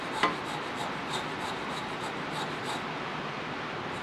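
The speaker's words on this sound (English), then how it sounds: "Coming back with the round scraper, getting that out of the way." A round scraper rubs across a wooden hollowform on a lathe, a soft, steady rasping scrape with faint periodic ticks as the piece spins, quiet and close with no talk.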